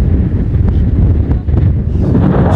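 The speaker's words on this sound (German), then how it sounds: "Ich hoffe, man kann überhaupt was verstehen bei dem starken Wind." Strong wind buffets the microphone outdoors by a lighthouse on the Norwegian coast in autumn, a loud, constant low rumbling roar with gusty surges.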